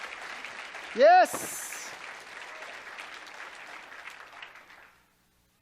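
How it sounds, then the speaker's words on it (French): A church congregation applauds at a baptism service, and one voice shouts out excitedly as the clapping starts. The dense applause carries for about four seconds, then trails off into silence. "ça mérite une main d'applaudissement pour ce Jésus qui fait tant de choses pour nos vies"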